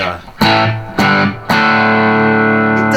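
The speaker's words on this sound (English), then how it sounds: "Now with the Pure Sky, the delay" Electric guitar through a Boss Pure Sky reverb pedal with delay into a Tone Master amp: three strummed chords ringing out, the last sustaining with a lush, slightly gritty shimmering tail, loud and close.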